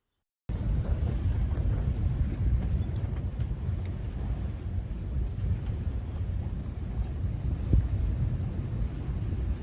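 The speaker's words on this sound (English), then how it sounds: "Gusts of 16 knots." Steady 16-knot wind gusts buffet the microphone on a sailboat off Vancouver Island near Port Hardy, a continuous low rumble with gusty swells throughout, no voices.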